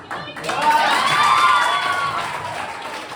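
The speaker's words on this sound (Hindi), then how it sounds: "इतना तालियां मैंने कभी डैडी के लिए नहीं देखी।" An audience at a retirement celebration breaks into applause, a swelling wash of many hands clapping with faint cheering that holds steady and then slowly eases off.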